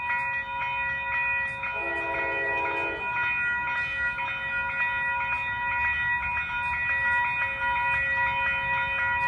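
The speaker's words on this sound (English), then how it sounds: "This is for Amtrak 291, Penn Station, New York to Burlington, Vermont." Amtrak train 291 from New York to Burlington, Vermont, led by a heritage unit, passes along the Hudson Line at Peekskill: a steady rumble of moving rail cars runs throughout, with a brief horn-like tone partway through, and no talk.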